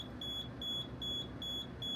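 Fire alarm panel resounding after a reset: a piercing high electronic beep pulsing in a regular rhythm, roughly two tones per second, alone against low background hum.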